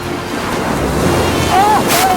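Sea waves break near a shore as someone lands a small boat through the surf, a steady wash of water with wind noise on the microphone that swells louder toward the end.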